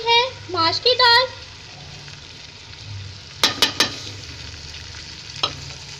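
Chana dal and mash dal stirred in a pot for harees, with a few scraping stirring strokes and a soft background sizzle, plus short bursts of high-pitched voices at the start.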